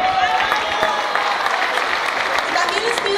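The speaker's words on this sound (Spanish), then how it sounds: "También les pido un fuerte aplauso para Ricardo Briones" Audience applause at a 2011 youth singing contest final, a steady dense patter of clapping from a crowd throughout, with an announcer's voice faintly over it.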